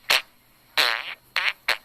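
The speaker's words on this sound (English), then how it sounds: "Fart sound number 9." Fart sound effects played from a phone app: four short, close raspy bursts, one longer and fluttering, separated by brief pauses.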